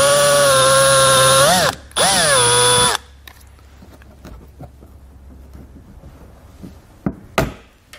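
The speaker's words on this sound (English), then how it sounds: "you'll need to drill these out right at the center to remove them." A power drill bores out the centers of plastic trim rivets on a 2019 BMW X3, two loud whining bursts with a short pause between, followed by quieter clicks and taps as the pieces are handled.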